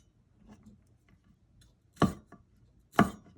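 Knife cuts through bell pepper on a cutting board: a few soft taps, then two sharp, close chops about a second apart, with no talk.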